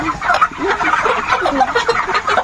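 Chickens cluck close by in a dense, overlapping chorus, with quick, busy clucks and murmurs running without a break through the short stretch.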